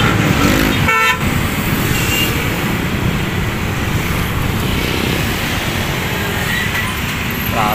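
Dense road traffic on top of a bridge over a floodway rumbles loud and steady, with a short car horn toot near the start and more faint honks toward the end.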